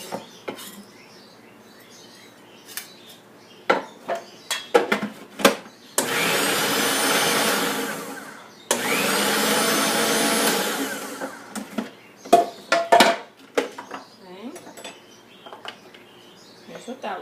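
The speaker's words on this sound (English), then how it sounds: "The egg does better if you chop it up a little bit before you put it in the food processor." A food processor grinds chopped egg for pet bird food in two long whirring bursts, loud and close, surrounded by clinks and taps of utensils against a bowl and faint bird chirps.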